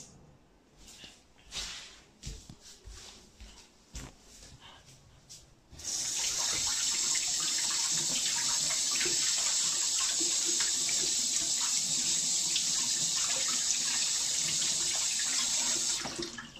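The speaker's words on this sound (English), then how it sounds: "And now I'm going to wash my hands." Tap water runs steadily into a sink for about ten seconds as hands are washed during home cake-making, a loud, close, continuous rush that follows a few quieter kitchen knocks and handling sounds.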